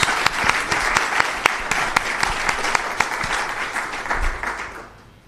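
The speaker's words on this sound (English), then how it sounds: "Let's give them a round of applause." Steady applause from a crowd, with a few sharp individual claps standing out, fading away at the end.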